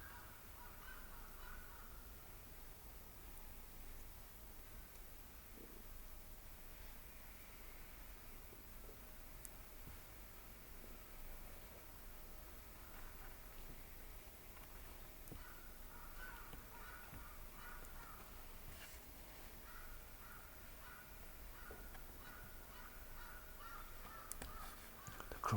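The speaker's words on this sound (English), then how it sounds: "crows are going nuts out there" Crows caw outside, faint and distant, with scattered calls repeating over a long stretch of quiet indoor room tone and no talk.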